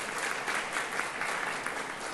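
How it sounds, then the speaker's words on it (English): Crowd applause at an exhibition opening ceremony, a brief dense wash of clapping from many people, steady and moderately loud without speech. "Jessica Chamberlain, raise your hands so you can get rounds of applause."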